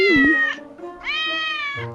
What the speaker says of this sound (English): Oh my gosh, you brought your cat Tuesday in today